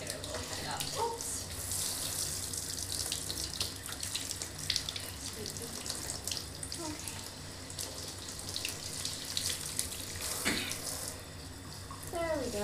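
Tap water runs steadily throughout while a small dog is rinsed during a bath, with faint splashing over the flow.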